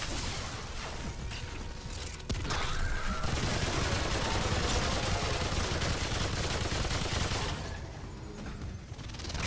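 Dense, sustained automatic fire from a light machine gun in the Remnant 2 video game, a continuous loud roar of rounds that swells after a brief opening stretch and holds steady before tapering near the end.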